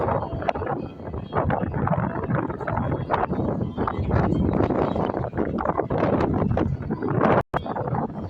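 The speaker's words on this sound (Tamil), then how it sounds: "இங்கெல்லாம் நல்லா வந்து காற்றடிக்குது." Strong sea wind at Kanyakumari roars continuously across the microphone, a loud, gusty buffeting that stays near and constant, with a brief dropout near the end.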